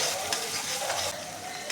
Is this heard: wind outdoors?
no